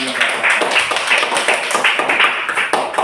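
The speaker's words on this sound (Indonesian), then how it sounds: "Berikan tepuk tangan untuk kawan kita yang sudah mencapai." Schoolchildren in an Indonesian classroom burst into steady, dense applause, many hands clapping close together in a continuous patter that holds at an even level throughout.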